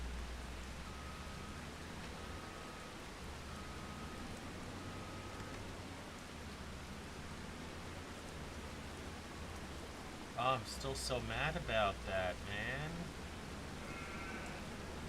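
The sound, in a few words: rain in a video game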